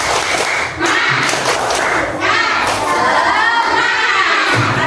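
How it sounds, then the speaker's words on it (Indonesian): A classroom of schoolchildren loudly performs the tepuk semangat clapping chant, with rhythmic claps mixed with shouted chanting voices and thumps, busy and close. "Yuk tepuk semangat dulu sebelumnya"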